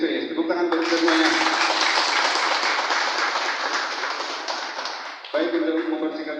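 At the opening of a table tennis tournament in Bekasi, an indoor crowd claps in a steady burst lasting several seconds, with a voice speaking just before and after.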